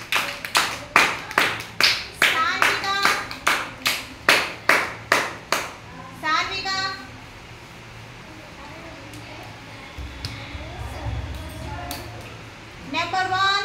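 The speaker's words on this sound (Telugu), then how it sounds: "క్లాప్స్ కొట్టండి పిల్లలందరూ." Young children at an Anganwadi preschool clap together in a steady rhythm of about a dozen loud, close claps, then stop as the children's voices and an adult's talk carry on.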